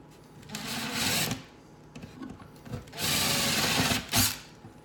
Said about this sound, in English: We're going to go ahead and pilot drill our back sides.